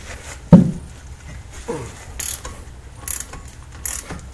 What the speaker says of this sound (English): So sometimes you need a breaker bar.